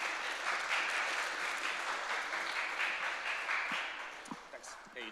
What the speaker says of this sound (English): Guys, clap it up for Meow.